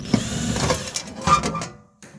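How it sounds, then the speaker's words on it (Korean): Screws being backed out of the cover of an LG one-way ceiling air conditioner: a close, continuous mechanical whirring and scraping that holds steady and fades out, with a brief knock at the end. "또 여기 나사를 풀어보겠습니다"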